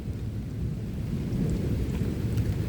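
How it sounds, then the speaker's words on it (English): A low, rolling rumble of thunder over steady rain, deep and sustained without a sharp crack, no voices present. "Gosh, listen to that. Thunder"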